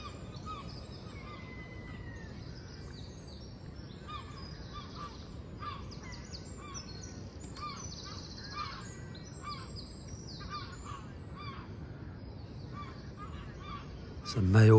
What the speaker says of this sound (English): Herring gulls obviously making a noise.